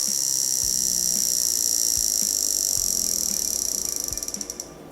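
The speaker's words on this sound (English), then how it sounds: "there is a hammer on the movement that hits on the side of the case and allows for that sort of cricket sound" A 1951 Jaeger-LeCoultre Memovox reference 3150 mechanical wrist alarm buzzes, its hammer striking the case in a rapid, high, cricket-like rattle, steady for several seconds before slowing into separate clicks and stopping.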